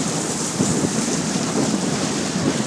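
Wind roars steadily past a diesel trawler at sea off Stanley Park near the Lions Gate Bridge, a loud, close, broadband rush with gusting swells and water noise, no talking.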